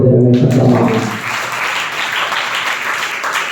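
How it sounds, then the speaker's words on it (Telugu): An audience breaks into applause, with dense, steady clapping that rises over a voice at the start and then carries on alone at a fairly even level. "నమ్మినటువంటి చప్పట్లు"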